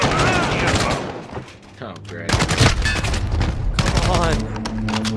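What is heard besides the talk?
enemy sentry gun firing in a video game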